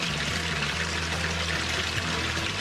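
Water pours in a steady, continuous stream, fairly loud and close, with a hissing splash and no voices over it.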